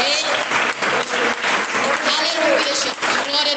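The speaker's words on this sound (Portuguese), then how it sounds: "Mais palmas" A church congregation claps at a Portuguese-language sermon, with dense, sustained applause filling the space steadily and close at hand.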